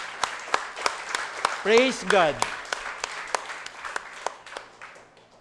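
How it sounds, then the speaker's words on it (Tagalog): A church congregation at a Sunday worship service bursts into applause, with dense, loud clapping and sharp individual claps that thin out gradually while a voice shouts out over the noise. "Bigay po natin yung pinakamalakas na palakpak sa Diyos."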